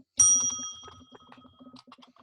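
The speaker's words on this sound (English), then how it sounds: "that bell is everything" Single bright bell ding, sharp and ringing with a decaying metallic tone, followed by faint clicks and rustles.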